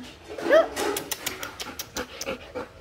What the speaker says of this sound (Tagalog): Pero dalawang golden retriever na